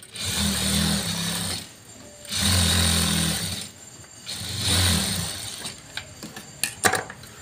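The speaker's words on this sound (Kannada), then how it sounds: "ನಿಧಾನಕ್ಕೆ ಸ್ಟಿಚ್ ಹಾಕೊತ ಹೋಗಿ" Three close bursts of a sewing machine stitching piping onto a blouse sleeve, each run humming for about a second with short pauses between, followed by a few light clicks.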